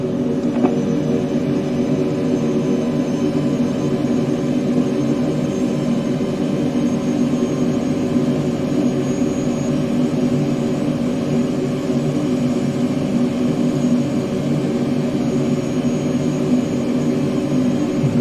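Steady, loud aircraft engine drone with a constant low rumble and faint tonal hum throughout, an airplane on landing approach with wheels down in a flight simulator game.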